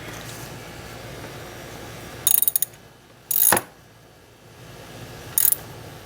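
Three short bursts of a ratchet wrench clicking while tightening the battery terminal on a 2007 Toyota FJ Cruiser, close up, separated by quiet pauses over faint background noise.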